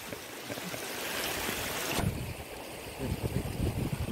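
Steady rushing water of the Ganges river being waded across fills the clip, with low splashing and sloshing movement underneath that grows choppier toward the end.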